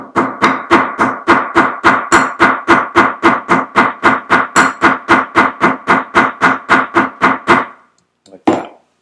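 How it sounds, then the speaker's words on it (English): Hammer strikes flattening a folded nylon strap for a crossbody bag, about thirty loud, evenly spaced close blows in a steady fast rhythm, then a pause and one final hit. "We're going to take this and we're going to hammer the daylights out of it to flatten it."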